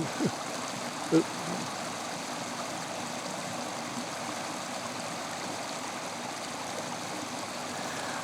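A stream of flowing water gives a steady, broadband rushing wash that stays even throughout, with a couple of faint knocks near the start and no speech.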